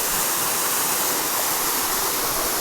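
Tukad Cepung waterfall in Ubud, Bali, beside a soaking pool, gives a steady, dense hiss of falling water, loud and close, with no breaks or other sounds.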